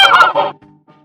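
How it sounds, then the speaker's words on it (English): A goose gives a loud, close, harsh honk followed by a couple of fainter, shorter calls trailing off in the next second. "Goose."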